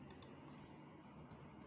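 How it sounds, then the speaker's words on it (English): Computer keyboard keys pressed for a Ctrl+T shortcut in Photoshop: a couple of quick, faint clicks near the start and two more light taps later, over quiet room tone. "on your keyboard, press Ctrl T to transform."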